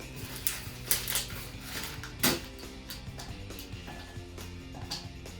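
Chocolate snaps into chunks in a series of sharp, irregular cracks, one louder break in the middle, close up with no talking.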